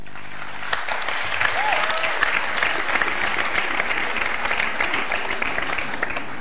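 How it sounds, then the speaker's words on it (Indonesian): A studio audience claps loudly and steadily for several seconds during a hypnosis segment of an Indonesian TV variety show, a dense wash of applause with no voices. "Tepuk tangan penonton membuat Kiwil tidur lebih dalam"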